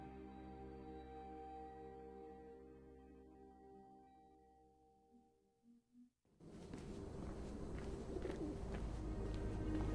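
Soft pigeon coos in the video game Mirror's Edge, in a calm, tonal setting, a few short hoots near the end before a sudden burst of loud, dense game noise takes over.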